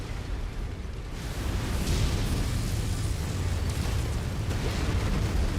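A building blows up in the mech combat game MechWarrior 5: Mercenaries, giving a sustained, loud rumbling roar of explosion and debris that rises after the first second and then holds steady with no voices.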